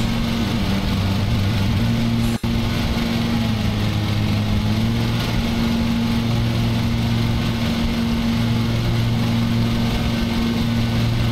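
Lawn mower engine in the Lawn Mowing Simulator video game, a steady droning hum with a constant low pitch that shifts slightly partway through, running loud and uninterrupted.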